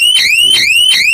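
A solar-powered fence energizer alarm on a papaya farm beside a forest sounds loudly and alone, three rising-and-falling electronic siren sweeps repeating about every third of a second.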